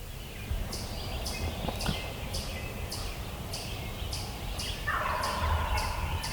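A wild turkey gobbles repeatedly in a West Virginia woodland, each gobble a short rattling burst sounding at fairly even intervals at moderate distance, with steady outdoor background and no talk.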